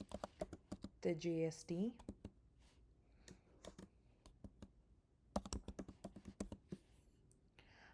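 Quick bursts of clicky computer keystrokes as a name is typed in, near and crisp, with short pauses between runs and a brief spoken phrase partway through.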